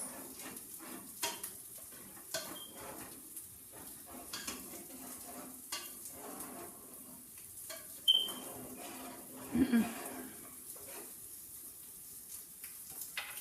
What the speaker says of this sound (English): Now we're going to stir the flavor into the rice